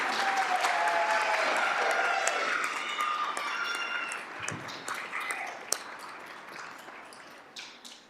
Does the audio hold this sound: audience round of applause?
yes